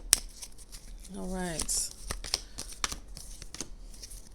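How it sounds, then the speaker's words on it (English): A short shuffle of a tarot deck gives a quick flurry of crisp, close card clicks and riffles, followed by a brief spoken remark. "I'm going to give it a little shuffle"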